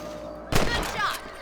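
A single sharp gunshot in the Red Dead Redemption video game, a loud close crack with a booming tail, followed by a brief rising sound effect over quiet background ambience.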